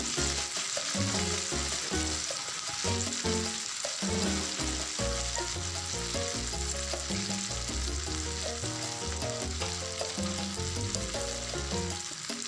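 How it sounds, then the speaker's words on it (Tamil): Fish fries slowly in hot oil over a low flame, giving a dense, continuous sizzle that stays level throughout. A steady tonal layer that sounds like music runs underneath, and no one speaks. "கடாயில் எண்ணெய் ஊற்றி, எண்ணெய் நல்ல சூடானதும் நாம் ரெடி பண்ணி வச்சுருக்கிற ஃபிஷ்ஷை அதில் போட்டு நல்ல சிம்மில் வச்சு பொறுமையாக பொரிச்சு எடுக்கணும்."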